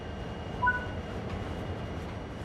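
A train in Train Sim World 3 rolls along with a low, steady rumble and a brief faint tonal squeal, quiet and unbroken with no one speaking.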